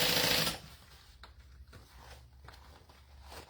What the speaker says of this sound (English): We're flipping and pivoting, or we're pivoting and sewing at 3/8 of an inch up